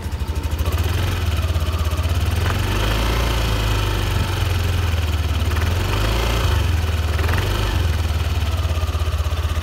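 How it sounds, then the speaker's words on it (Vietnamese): Yamaha NVX 155 scooter engine from 2021 runs steadily and close up, a smooth, even idle-like drone holding at constant loudness throughout with no talking. "Nhưng với động cơ lô co của Yamaha thì xe này tiếng máy rất là êm nha."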